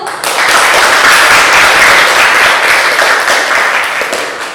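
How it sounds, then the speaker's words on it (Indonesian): A classroom audience applauds a presentation group in an economics lesson, steady dense clapping that starts abruptly and holds loud and continuous for about four seconds before easing slightly. "Berikan aplaus untuk kelompok 1."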